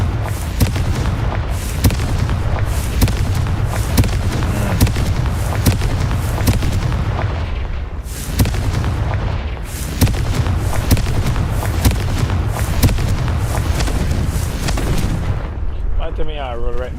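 Repeated Confringo spell blasts in Hogwarts Legacy, loud booming explosions going off one after another in rapid succession, with a player's voice calling out between them.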